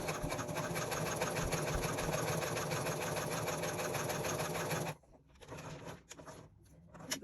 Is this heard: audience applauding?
no